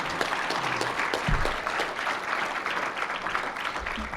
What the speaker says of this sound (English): I think he should get applause just for that